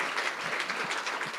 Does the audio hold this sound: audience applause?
yes